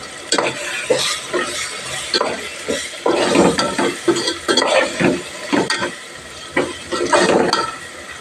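A spoon stirs sizzling chicken biryani ingredients in a pot, with salt just added. Repeated scraping strokes come close and loud over a steady frying hiss, with an occasional clink against the pot.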